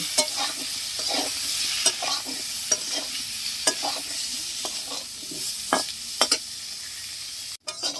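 Potatoes frying in mustard oil with turmeric and salt, a steady close sizzle broken by repeated scraping stir strokes, with no talking.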